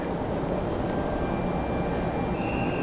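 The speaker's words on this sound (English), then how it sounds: "that was Frontier 1742 from Houston" A Frontier Airlines jet arriving at Raleigh-Durham airport produces a steady, broad roar of engine noise, moderately loud and constant throughout.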